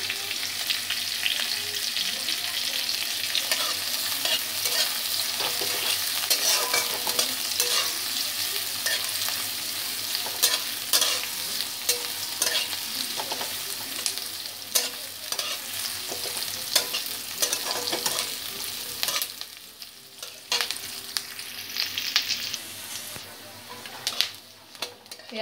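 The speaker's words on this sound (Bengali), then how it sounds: "পেঁয়াজটাকে ভেজে নেব।" Onions fry and are stirred in a pan for Punjabi-style chana masala, giving a steady close sizzle with frequent scraping strokes from the spoon throughout, and no talking.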